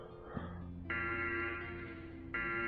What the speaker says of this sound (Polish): jakiś alarm jakiś wyje